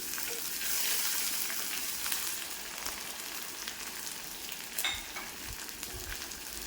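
Green chillies and curry leaves fry with ginger, shallots and garlic in a pan, a constant close sizzle and crackle that holds evenly throughout, with faint occasional stirring taps.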